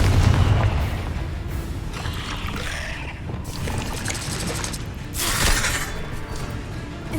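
Booming spell blasts from a Confringo fire spell cast in Hogwarts Legacy, a Harry Potter video game, land as a few heavy explosive bursts mixed with mechanical clatter, loudest near the start and again around the fifth second.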